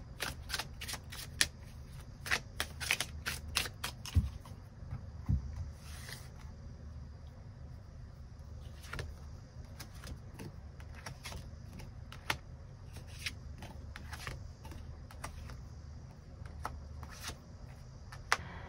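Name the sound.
tarot cards being shuffled and drawn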